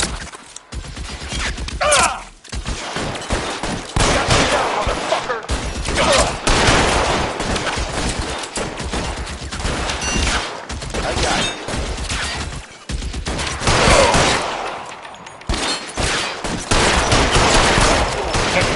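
Sustained heavy gunfire in the LA Noire video game, with dense rapid volleys and bursts of shots running almost without pause, loud and chaotic, and occasional gaps where the firing briefly drops away.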